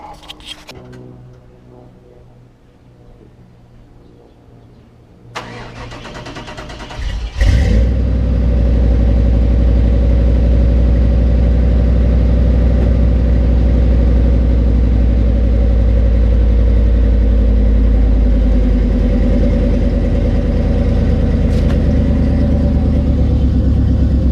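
An LT1 V8 in a Chevy S10 prerunner with ceramic headers cranks and fires after a few quiet seconds, then settles into a loud, deep, steady rumble that continues close-up to the end.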